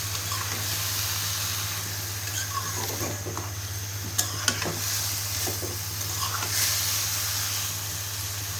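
Leafy greens stirred in a cooking pan with spices, giving steady sizzling and steam hiss with a few soft scraping stirs and clinks, close and moderately loud over a constant low hum.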